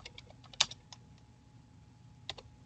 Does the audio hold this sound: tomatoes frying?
no